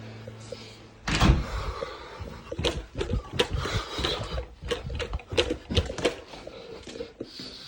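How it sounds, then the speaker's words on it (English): A door closes indoors in a house with a walk-in basement, a clear thud followed by a series of knocks, shuffles and handling noises nearby, with no talk. "I need to close the door."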